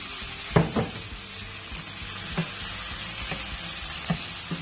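Sliced zucchini (tori) tipped into hot oil in a pan, with a few close knocks as it lands followed by a loud, dense, continuous sizzle, no voices.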